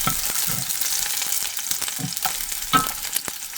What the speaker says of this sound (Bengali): রসুনগুলো এরকম হালকা হালকা ভাজা দিছি।